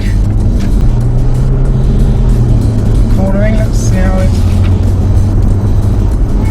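A BMW cruises on the M1 motorway, its steady cabin drone of engine and road noise loud and unbroken throughout, while someone talks over it.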